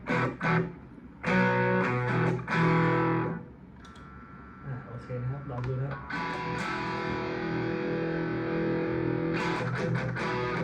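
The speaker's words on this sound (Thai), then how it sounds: "เป็นเสียงแตกนะครับเป็นแบบฮัมบักกิ้งครับ" Distorted electric guitar, a PRS-style model through humbucker pickups and a small amp, rings out in thick, gritty sustained chords, with someone speaking briefly before the playing.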